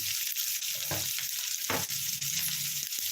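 Curry leaves and green chillies sizzle and crackle steadily in hot oil for a dry fish gravy, a bright continuous frying hiss with occasional stirring clinks and no talking.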